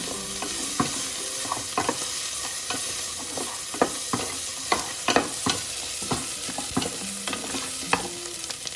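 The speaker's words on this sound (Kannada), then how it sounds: "ಬೆಳ್ಳುಳ್ಳಿ ಶುಂಠಿ ಪೇಸ್ಟ್ ಹಾಕ್ತಾಯಿದ್ದೀನಿ. ಅದನ್ನು ಸ್ವಲ್ಪ ಫ್ರೈ ಮಾಡಬೇಕು." Garlic ginger paste frying in a pan for chicken biryani, a steady close sizzle with repeated scraping and stirring clicks from a utensil throughout, no voices.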